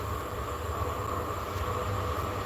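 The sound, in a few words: TER regional train arriving at station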